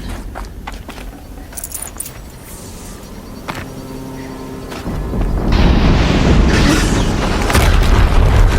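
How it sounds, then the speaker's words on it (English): A deep explosion boom in Horizon Zero Dawn, with low rumbling blasts that build into a loud, sustained roar in the second half, like a large explosion rolling on. "Another explosion."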